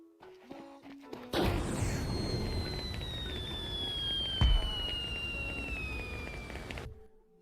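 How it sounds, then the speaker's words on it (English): Fire grenade bomb going off in Counter-Strike 2: a sudden burst erupts into a sustained roaring, crackling burn lasting several seconds, with a heavy thump midway and a whistling tone sliding down, then cutting off abruptly. "When a bot steps on it, the bomb detonates and burns him."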